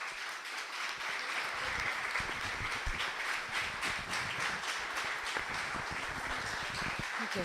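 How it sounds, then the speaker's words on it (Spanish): Applause at an Argentine event on Palestine and international solidarity, a crowd clapping steadily with distinct individual claps audible throughout, moderately distant. "pedimos un aplauso para ella"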